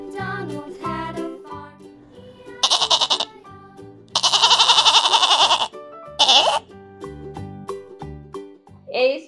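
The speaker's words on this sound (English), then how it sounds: "G for goat." Goat bleats come in three loud, wavering bursts between stretches of a cheerful children's alphabet song with music, the longest cry in the middle.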